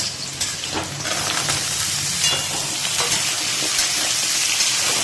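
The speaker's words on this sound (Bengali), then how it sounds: "আমাদের মূলোটা মোটামুটি বেশিক্ষণ নয়, 2 থেকে 3 মিনিট একটু ভাজা হয়ে গেল। এইবারে দিয়ে দেবো আলু।" Radish pieces and potato fry in a pan, a steady loud sizzle with occasional stirring scrapes throughout, no voices.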